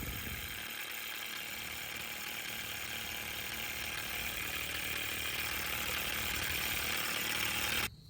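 A vacuum pump for a relocated four-wheel-drive system on a 7.3 Powerstroke truck whirs steadily at an even, moderate level, then cuts off abruptly at the end.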